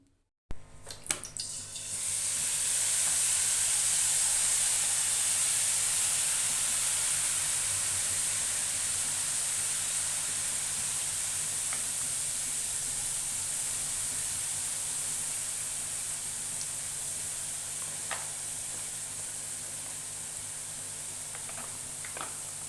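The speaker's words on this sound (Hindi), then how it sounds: "घी हमारा गर्म हो रहा है।" Ghee heating in a covered pan while making Lahori Khakhar Pura, a steady broad hiss and sizzle that rises quickly after a brief start and holds evenly for over twenty seconds, slowly easing off.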